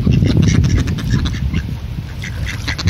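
A flock of ducks, mostly drakes, quacks on an unfrozen river in Minsk in freezing winter weather, with many overlapping nearby calls in a busy, continuous chorus.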